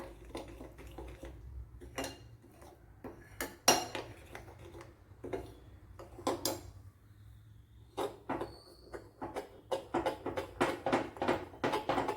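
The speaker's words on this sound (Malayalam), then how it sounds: "എന്നിട്ട് നല്ലപോലെ ഒന്ന് കലക്കി കൊടുക്കണം കട്ടയൊക്കെ മാറ്റിയൊന്ന്" Dosa batter with a spoonful of cornflour stirred in a bowl for banana snacks, giving repeated clinking and scraping of a spoon against a dish in irregular bursts, fairly close and with no talk.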